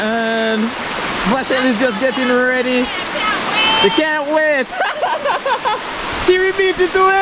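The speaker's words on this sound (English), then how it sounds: "just turned up at the waterfall" A hidden waterfall at an outdoor hiking spot gives a steady rushing wash of falling water beneath close, lively talk from several people.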